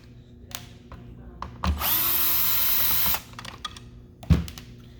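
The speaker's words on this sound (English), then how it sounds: "You can also pop these 2 screws off here." A power drill whirs for about a second and a half to back a screw out of a vacuum cleaner powerhead, close and fairly loud, framed by clicks, taps and handling of plastic parts before and after.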